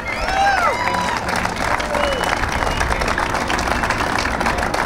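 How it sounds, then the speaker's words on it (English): A crowd at an outdoor event for Tappan Zee Bridge workers in Tarrytown, New York applauds and cheers, dense clapping mixed with whistles and crowd babble, steady and loud throughout. "So let's give them another round of applause."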